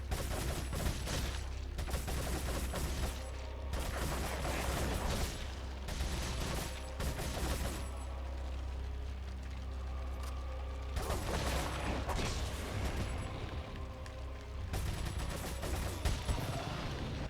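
Gunfire in the video game Resident Evil 4 during a boss fight, with repeated sharp shots and clattering mechanical sounds over a booming, dense game soundscape.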